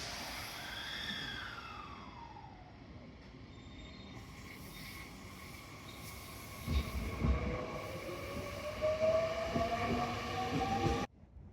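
A train departs from platform 1 at a Japanese railway station, its wheels squealing in long rising tones as it rolls off, with the rumble and rattle growing louder toward the end; no one speaks.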